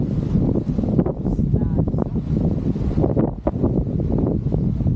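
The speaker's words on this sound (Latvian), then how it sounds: "Šeit atkal pūš atkal vējš." Gusty wind buffeting the microphone beside a lake among mountains, loud low rumbling blasts that rise and fall unevenly, with brief faint sounds in the background.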